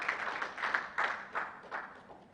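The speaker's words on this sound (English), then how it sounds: "Can we clap for ourselves?" A conference audience claps faintly for a couple of seconds, a loose patter of hands with a few stronger bursts, heard from a distance in a hall.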